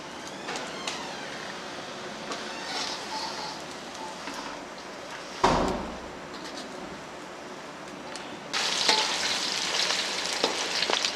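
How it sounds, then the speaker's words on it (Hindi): Chatkhara boti meat pieces fry in hot oil in a pan, a steady crackling sizzle broken by a brief thump and stirring, and the sizzle grows louder near the end. "सारी बोटियों को इस तरीके से फ्राई कर लेना है।"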